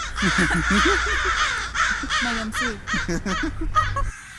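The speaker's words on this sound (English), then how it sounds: "Birds." Several crows caw overhead outdoors in a quick series of harsh, rhythmic calls, with people talking briefly between the caws before the sound cuts off.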